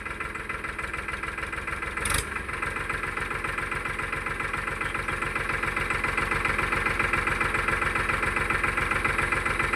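A Mahindra tractor engine idles steadily while dumping a trolley load of goat dung, a close, even diesel chug with one brief knock early on and a slight rise in level later.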